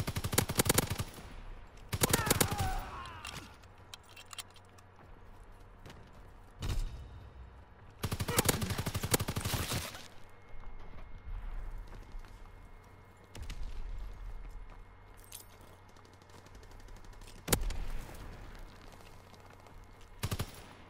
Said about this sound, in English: Ooh, I love the sound of the headshot.